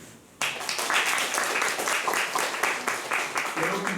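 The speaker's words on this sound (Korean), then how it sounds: "인사드리실 때 힘찬 격려박수 보내주시기 바랍니다." Congregation at a Sunday church service breaking into vigorous applause, a sudden burst of dense clapping that starts abruptly and stays strong and steady to the end.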